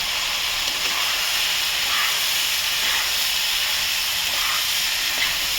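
Turmeric and spices fry in a pan with a dense, continuous hiss and sizzle, steady and close throughout without pause.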